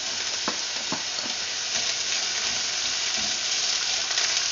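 Onion added to hot oil in a pan and stirred, a dense, steady hiss of frying with occasional soft scrapes of the utensil, close and continuous.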